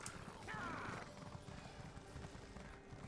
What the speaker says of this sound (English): Let's get the horse going.